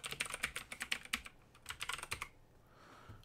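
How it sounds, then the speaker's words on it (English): Rapid, irregular clicks of keys on a computer keyboard as a password is typed in, two close bursts of keystrokes separated by a short pause, then a brief quiet stretch. "Next, you're going to type in a password."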